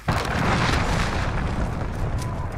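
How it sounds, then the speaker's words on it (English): A cruise missile detonates in Modern Warfare, a sudden loud boom that starts abruptly and rolls into a long, dense rumble sustained for over two seconds. "Allied cruise missile away."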